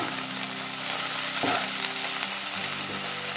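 Tomatoes sauté with onion in a hot pan for Punjabi dum aloo, a loud, continuous close sizzle with the occasional stir breaking through the steady frying hiss.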